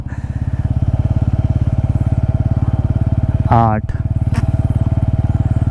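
Bajaj Pulsar N160 motorcycle rolling slowly in first gear in sport mode, its engine thumping steadily and close throughout, with a brief louder burst near the end and someone talking over it.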